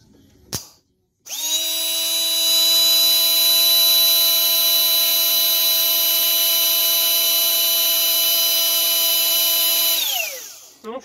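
A Bosch GSR 120-Li cordless drill, tested for a faulty trigger switch, runs at steady high speed in a continuous loud whine for about nine seconds before spinning down, after a brief click.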